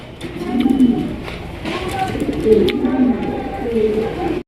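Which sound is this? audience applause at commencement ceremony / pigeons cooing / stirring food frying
pigeons cooing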